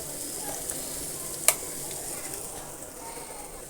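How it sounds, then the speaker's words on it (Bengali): Dried puti fish frying in spices in a hot pan gives a steady, close sizzling hiss throughout, with one sharp clink of a utensil partway through. "শুটকিটা একটু ভাজা ভাজা করে নিচ্ছি।"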